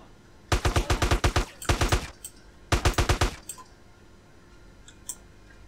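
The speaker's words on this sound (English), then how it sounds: "Let's go in with an assault rifle." Assault rifle fire in GTA San Andreas comes in three rapid, loud bursts of evenly spaced shots, followed by quieter faint clicks.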